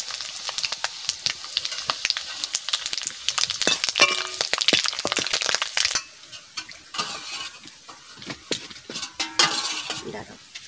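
Panch phoron, dried chillies and bay leaf crackle and sizzle in hot oil with sharp pops and stirring scrapes, loud and close at first, then settling to a quieter, sparser crackle.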